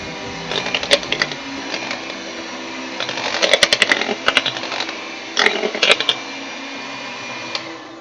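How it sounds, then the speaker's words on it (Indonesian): An electric mixer runs at low speed through cake batter for a layered Surabaya spiku cake, just until the flour is combined. A steady motor hum continues throughout, broken by irregular clattering bursts of beaters knocking the bowl, close and moderately loud. "Setelah tercampur rata, kita nyalakan kembali mixernya."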